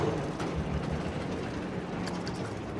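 A roller coaster train rolling along its track in the theme park game Planet Coaster, a continuous rumbling clatter with faint clicking, steady and moderately loud.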